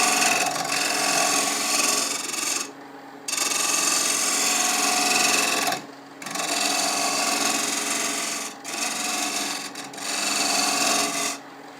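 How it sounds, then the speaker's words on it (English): A half-inch spindle gouge scrapes the edge of a wooden bowl turning on a lathe, making a loud, steady rasping grind in long passes broken by brief pauses as the tool lifts off, with no speech. "I'm just going to come up with a 1/2 inch spindle gouge and do some scraping on that edge a little bit"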